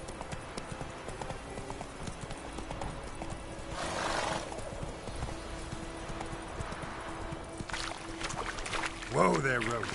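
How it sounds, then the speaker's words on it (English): Horse hooves clip-clop in The Witcher 3 video game, a steady rhythmic trot under continuous game ambience, with a brief whinny-like sound near the end. "Whoa there, Roach."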